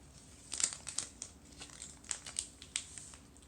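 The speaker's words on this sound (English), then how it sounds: "So I hold the board with one hand and I slowly peel." A covering is slowly peeled off a painted, white-stained wood board, making soft crinkly tearing and crackling sounds in short irregular bursts, close and quiet with no talking.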